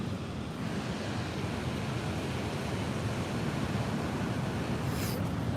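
Ocean surf breaks continuously at San Sebastián, Spain, during hurricane swell at roughly low tide, a loud, steady wash of whitewater roar with wind buffeting the microphone and no voices.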